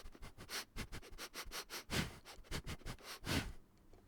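Close, rapid sniffing right up against a microphone, a quick run of breathy snuffles and louder huffs in an uneven rhythm, alone with no talking.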